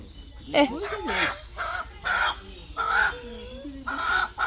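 Household rooster crowing in several rough, strained bursts at close range, with people talking around it.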